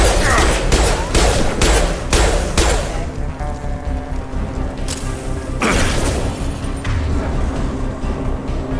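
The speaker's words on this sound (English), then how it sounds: "Where are those shots coming from?" Gunfire in Mass Effect 2 sounds as a fast burst of loud, sharp shots in the first few seconds, followed by scattered single cracks and combat noise.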